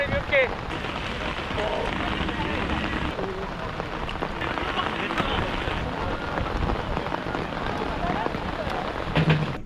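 Rain falls steadily on an outdoor street during a busking event, a constant patter of drops on surfaces with voices of people talking faintly underneath.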